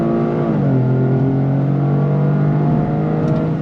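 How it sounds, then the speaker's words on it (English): A 2025 Toyota GR Corolla with an 8-speed automatic accelerates hard on throttle, its engine note climbing steadily in pitch and holding loud and close from cabin perspective after a brief drop at the start. "Let me put it back into automatic shift mode and see how it behaves as we go on throttle again."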